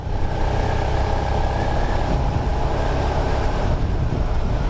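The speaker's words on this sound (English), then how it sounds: "The other thing I like about this bike is its sound. It just has a great sound to it." A Suzuki SV650X sport motorcycle's engine and exhaust drone steadily and loudly throughout, mixed with wind and road noise while riding, with no talking.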